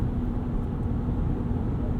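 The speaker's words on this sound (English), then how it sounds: "As you can hear at 60 miles an hour, there is a little bit of tire drone." Steady low tire drone and road rumble inside a 2019 RAM 1500 Rebel pickup cruising at 60 mph, a continuous even hum with faint wind noise and no talk.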